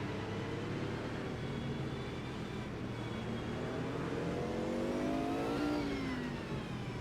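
A Group C sports car engine in the racing game Automobilista 2 drones steadily and loud, then revs upward through the gears in a rising whine, with no talking.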